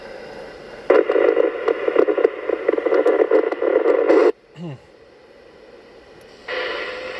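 Noisy ham radio transmission on a linked repeater, a harsh hiss-filled carrier bursting on for several seconds, cutting off with a squelch chirp, then keying up again.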